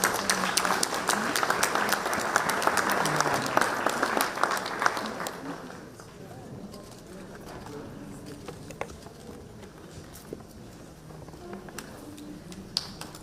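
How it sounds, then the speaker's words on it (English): An audience at a university contract-signing ceremony applauds loudly, a dense burst of clapping that fades after about five seconds into scattered claps and low room murmur. "A big round of applause."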